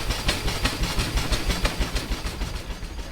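A 1910 Case steam tractor runs close by, its exhaust chuffing in a quick, regular beat of sharp puffs over a low mechanical rumble.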